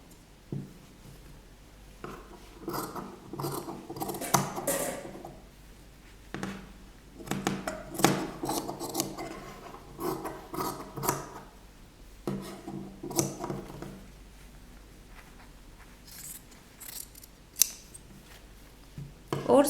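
Scissors snip through kurti fabric in repeated close, crisp cuts with short pauses between runs, while a voice speaks quietly in the gaps.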